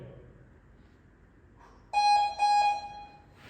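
Two loud electronic beeps from a workout interval timer at a home dumbbell session, a shorter tone then a longer one, ringing out clearly over a quiet room.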